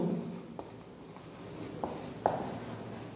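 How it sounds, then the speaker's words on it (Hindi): Marker or chalk strokes on a classroom board during a physics lesson, a series of short scraping squeaks with a few sharper taps, fairly close and moderate in level, with no talking over them. "ये अपने यहाँ पे एक लाइन लिखते हैं"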